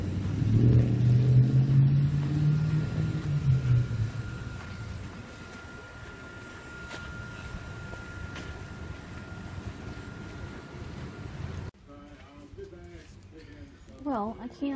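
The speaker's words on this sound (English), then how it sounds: "I'm going to taking Jeremy's truck and running down to Canadian Tire because it's just down the street" A pickup truck drives down a town street, its engine rumbling loudly at first and then settling into a steady road drone; near the end the noise drops and faint voice-like sounds come through.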